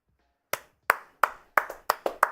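Sharp, close hand claps at an NBA Mavericks versus Clippers basketball game, about seven crisp slaps in a quickening rhythm with quiet between them.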